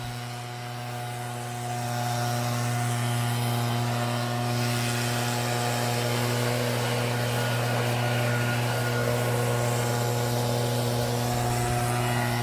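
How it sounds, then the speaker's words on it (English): A leaf blower blows plywood marks off a lawn with a steady, droning roar that rises slightly after the first two seconds and then holds constant, loud and close. "So take the blower and just, get rid of those marks that the plywood leaves."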